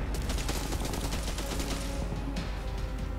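Rapid bursts of gunfire in the video game Crysis 3 crackle continuously, a dense stream of shots with a mechanical, slightly processed quality, loud and unbroken.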